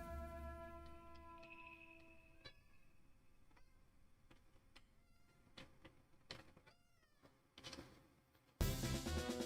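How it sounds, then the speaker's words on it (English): A cat meows a few times, short and fairly faint, amid scattered clicks and tones from a Pokemon HeartGold game playing in the background, ending in a sudden loud burst of noise. "Can you guys hear his meowing?"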